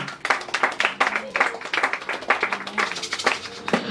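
A church congregation clapping together in a steady, rhythmic beat, close and lively throughout, with a few faint voices mixed in.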